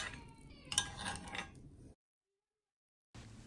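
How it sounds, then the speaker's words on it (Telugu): A metal spoon scrapes and clinks against a pan while lifting mini chocolate lava cakes onto a plate, a few close, light knocks before a stretch of silence. "ఇప్పుడు వీటిని 1 స్పూన్ తీసుకొని బయటకి 1 ప్లేట్ మీదకి తీసుకోండి"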